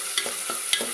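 Sliced onions frying in oil toward golden brown for a mutton curry, loud close sizzle broken by two quick stirring scrapes with a small clink, no one speaking.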